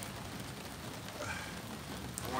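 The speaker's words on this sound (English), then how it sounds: "It's fucking raining, man." Rain falls in Los Angeles as a faint, even hiss of drops on surfaces, steady throughout and heard alone at a distance.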